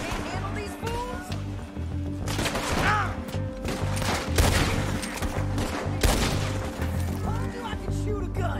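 Rapid gunfire in Red Dead Redemption II, a burst of several sharp shots clustered mid-clip with crashes and impacts, while characters talk under and between the shots.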